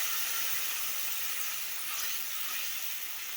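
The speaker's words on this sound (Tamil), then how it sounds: "நம்ம அரைச்ச தக்காளி கூட சேர்த்துக்கலாம்." Ground tomato paste hits hot masala with a steady, broad hiss of sizzling that carries evenly throughout at a moderate, close level with no talking.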